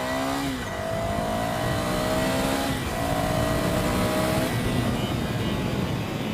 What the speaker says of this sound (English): All right, let's see how the acceleration goes.